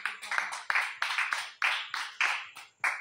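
A congregation at a French-language church worship service claps in uneven, sharp bursts, a dense ragged round of hand claps repeating roughly every half second, close and fairly loud with no talk over it.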